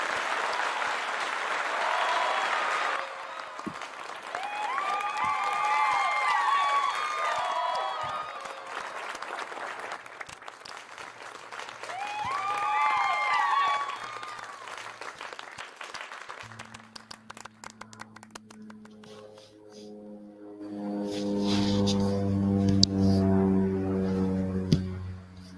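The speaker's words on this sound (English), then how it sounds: "Round of applause." Applause from a conference audience after a talk, loud at first, then thinning out with scattered claps as tones and other sounds take over toward the end.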